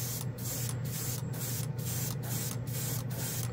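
A spray can of Cold Tone gold chrome paint hisses in short, light bursts, about seven quick passes in a regular rhythm, close by over a steady low background hum, with no talking.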